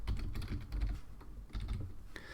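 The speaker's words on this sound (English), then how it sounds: "I'll start typing on the wrong line for some reason" Computer keyboard typing: a close run of quick, irregular key clicks with short pauses, steady and fairly quiet, with no talking.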